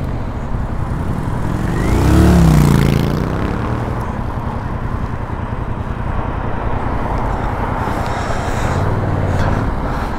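A 2024 Yamaha MT07 motorcycle ridden on the road, its engine droning steadily and close, with a louder swell of revs early on and a second rise near the end.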